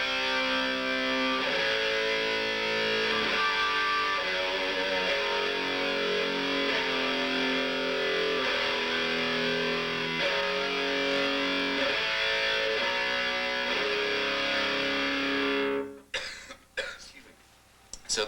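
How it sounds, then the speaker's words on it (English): A distorted electric guitar plays heavy power chords, with the fifth in the bass under the D, at a guitar clinic in 1994; a long run of sustained chord changes rings out loudly before stopping, followed by brief handling noise. "So those are the power chords."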